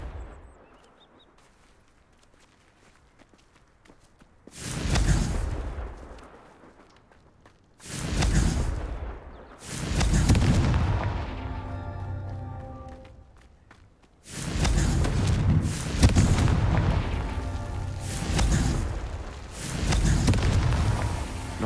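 Confringo fire spells in Hogwarts Legacy erupt as several loud booming blasts, each followed by rumbling, crackling decay, separated by quieter gaps of low ambience.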